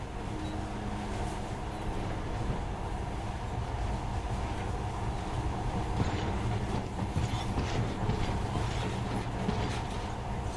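A monorail train runs through the Metro Last Light video game, a steady, dense rumble of rolling wheels with faint rattling and clatter that holds at an even, close level throughout.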